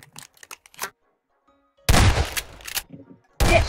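Rapid bursts of video game gunfire in Garry's Mod, a few quieter scattered shots followed by two loud, dense volleys close up after a brief pause.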